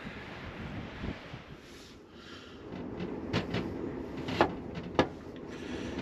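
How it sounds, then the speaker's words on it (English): Strong gusting wind outdoors at a truck camper boondocking spot, a steady broadband roar with a few sharp knocks and rattles, likely the camper or its fittings buffeted by the gusts. "This wind is preposterous. It is just blowing like crazy out there."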